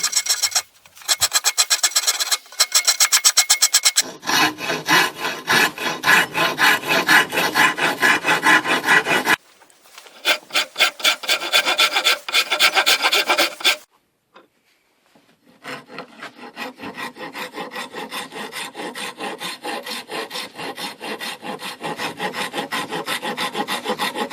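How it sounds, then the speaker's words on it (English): Rough, steady rasping and filing shaping a wooden knife handle, long scraping strokes in bursts with short pauses, close and loud, no talking. "I mainly use rasps and files to shape the profile of the handle."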